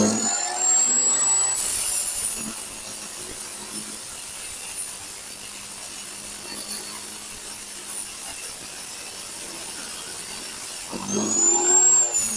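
A homemade cut-off machine with a 7-inch blade cuts with a sustained, fairly loud grinding hiss for about ten seconds. Brief sharper bursts mark the start and the end of the cut.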